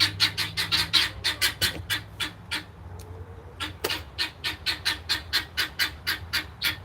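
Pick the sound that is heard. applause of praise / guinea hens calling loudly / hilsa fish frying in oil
guinea hens calling loudly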